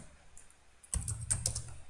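Computer keyboard keys tapped while writing Java code; after a quiet start, a quick burst of close, crisp clicks follows in an uneven rhythm.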